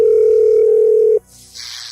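A home phone's voicemail tone sounds as one loud, steady electronic note lasting just over a second, then cuts off to a quiet background hiss.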